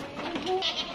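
A kacang goat in a pen gives a short, faint bleat amid quiet background noise, with no talking.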